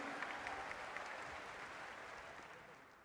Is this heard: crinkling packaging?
no